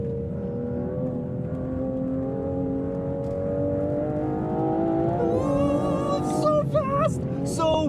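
A 2025 Aston Martin Vanquish accelerates hard, its engine note climbing steadily in pitch and loudness and then hitting sharp gear-change dips near the end. Someone talks over the engine throughout.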